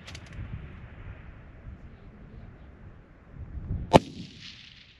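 A rifle shot striking a steel target at an NRL Hunter precision rifle match in open country; one sharp, distant crack and ringing clang near the end, with faint outdoor background before it.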